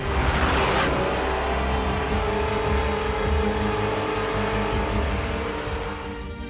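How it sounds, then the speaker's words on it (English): Steady engine drone with a strong harmonic buzz, loud and continuous, fading slightly at the end, attributed to a Shahed 136 drone whose engine is likened to a flying lawnmower. "Shahed's engine makes a unique sound, so it is known as a flying lawnmower."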